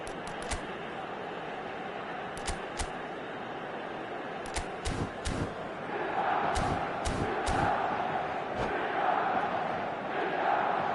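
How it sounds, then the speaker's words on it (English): A football stadium crowd at a Liga match roars with a continuous, distant wash of noise that swells louder partway through, broken by sharp claps and thuds. "at least the crowd are appreciative of his efforts"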